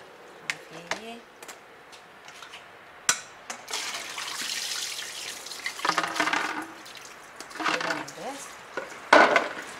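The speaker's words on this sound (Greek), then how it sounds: "Ξεπλένουμε και καλά, 2-3 φορές, ό,τι έχει πάνω να φύγει" Food is rinsed in water in a basin, with splashing, sloshing and stirring sounds in several bursts alongside clinks of dishes and running water, while a person talks at times.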